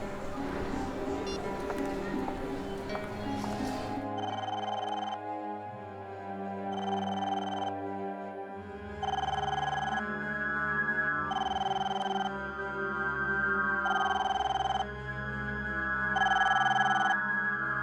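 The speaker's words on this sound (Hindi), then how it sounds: "ये अमित फोन क्यों नहीं उठा रहा है?" A telephone rings in repeated bursts of bright trilling tones, with a steady rhythm over music from a Hindi horror drama scene; the ringing goes unanswered and fairly loud, with no talk during it.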